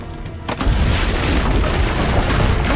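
A cannon fires in the game Assassin's Creed Brotherhood, a deep loud boom that lands after half a second of quiet and then rolls on in a long rumbling tail.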